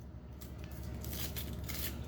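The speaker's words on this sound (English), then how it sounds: "And then the onion. You cut it in half." A knife cuts an onion in half for old-school baked chicken, with soft, close crunching slices in a few quick strokes against low background hiss and no talking.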